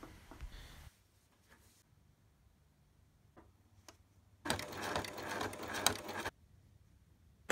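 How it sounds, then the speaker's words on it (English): A sewing machine stitches through thick denim on a jeans fanny pack, with a couple of short bursts early on and then a loud, steady run of stitching for about two seconds, near and with no talk. "finish the edges and sew them onto the pack"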